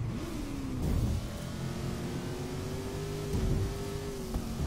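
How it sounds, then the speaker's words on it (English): A Ford Mustang engine in Forza Horizon 3 holds a steady, droning rev at moderate volume, rising slightly in pitch with a couple of brief surges, with no voices over it. "Man, this Mustang sounds awesome."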